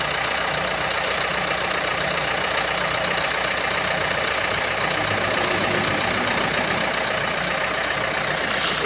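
A Kia Sorento engine idles with a steady mechanical hum, and a faulty air-conditioning compressor bearing adds a continuous grinding whir, close to the microphone and unbroken, with no speech.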